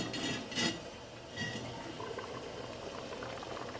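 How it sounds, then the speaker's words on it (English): Beef stew with mushrooms and chicken broth coming to a boil in a lidded pot, steady close bubbling with a few louder gurgling surges, faint overall and without talk. "As you see, it started to boil."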